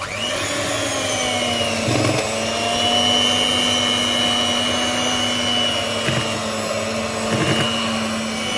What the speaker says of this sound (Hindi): अभी मैं इसको इलेक्ट्रिक बीटर से मिक्स करूंगी